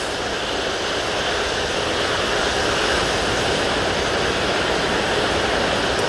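A Ryanair jet airliner takes off from Manchester Airport, its engines a loud, steady broadband roar that holds without a break throughout.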